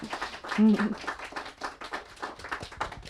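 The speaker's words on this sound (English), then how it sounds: "Let's give her a big DC round of applause." Audience clapping for an author reading at a book event, scattered hands applauding in a room with some voices mixed in beneath it.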